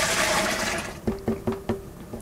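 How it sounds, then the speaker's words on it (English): Water runs into a home brewing fermenter, starting as a strong rushing hiss and then breaking into a few rhythmic gurgling pulses as it fills. "I have to turn on the water back there and fill this fermenter from over here."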